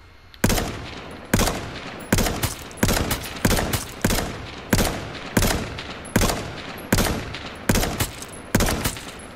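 Scout rifle gunfire in a video game, about thirteen sharp, loud single shots at a steady semi-automatic pace, each crack trailing off into a short echo before the next, with no talking.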